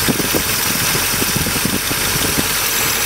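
A Ford 390 V8 with Cobra badging and a Cobra air cleaner, running at idle under an open hood, a steady close engine drone with rough rhythmic pulsing and no one talking.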